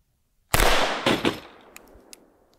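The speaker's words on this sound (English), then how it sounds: "Let's shoot the body armor." A 9mm pistol fired at homemade body armor outdoors, one sharp, loud report followed by a second and third close crack, with a fading echo and small clatters afterward.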